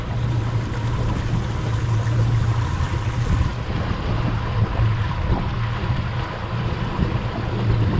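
A fishing boat trolls at 4 to 5 knots off Yankee Town, Florida, its engine droning steadily under rushing wind and water noise, a continuous close rumble with no voices.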